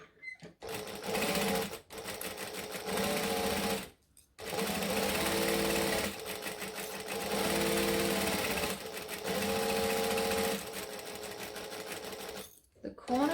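A sewing machine stitches a laptop sleeve in loud, rapid bursts, stopping briefly between runs for the needle to be set down and the fabric pivoted at corners.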